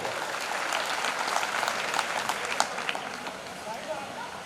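Audience applause at a Rajput Kshatriya community swearing-in ceremony, a steady moderately distant wash of clapping that holds evenly throughout, with crowd murmur underneath.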